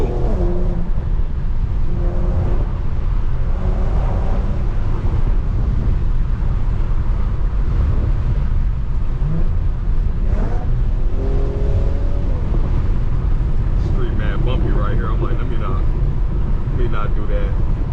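An Infiniti G37 cruises a backroad, its engine droning steadily and loudly from inside the cabin with wind rush and occasional revving, while someone talks over it throughout.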